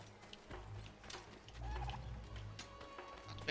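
A turkey gobbling in Assassin's Creed 3, a brief fowl call amid quiet outdoor game ambience with low rumbling and faint mechanical rattles.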